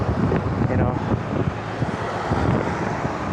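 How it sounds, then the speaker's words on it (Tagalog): Loud, gusty wind buffeting the microphone, a dense roaring rush with traffic-like rumble underneath. "Lakas ng hangin."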